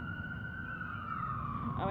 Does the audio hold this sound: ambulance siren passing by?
yes